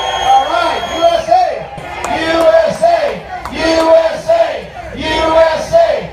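Large crowd at an outdoor Freedom Fest rally chanting in loud rhythmic unison, repeated shouted phrases rising and falling with cheering, dense and close.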